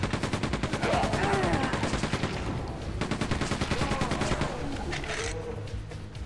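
Turrets in Quake II on hard mode fire rapid repeating bursts of gunfire, a dense loud machine-gun rattle with steady rhythmic shots that briefly thins near the end.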